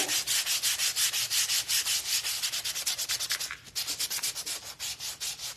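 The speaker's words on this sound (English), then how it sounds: "let's sand the backboard just a little." Steady back-and-forth sanding strokes on wood, a rapid rhythmic rasping repeated many times, close up, with no talking.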